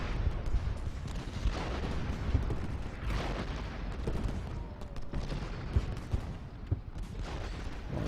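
Rolling artillery fire on a Civil War battlefield in Ultimate General: Gettysburg: a steady barrage of overlapping booms and crackling volleys with a deep rumbling undertone, fairly loud and without speech.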